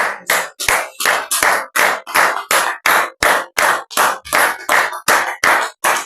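A church congregation applauds in rhythmic unison, about fifteen sharp, loud, evenly spaced bursts of clapping that fill the room with no talk.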